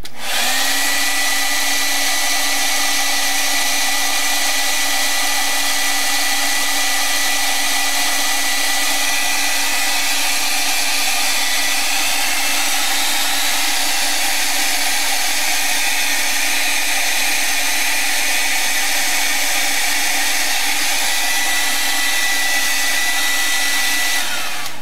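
A hair dryer blows steadily at close range for the whole stretch, drying acrylic paint in an art journal with a constant loud whir and no talking.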